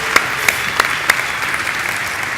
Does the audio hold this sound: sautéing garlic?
no